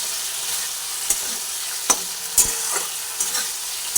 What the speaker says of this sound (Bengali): দিয়ে একদম ভালোভাবে নাড়াচাড়া করে নিই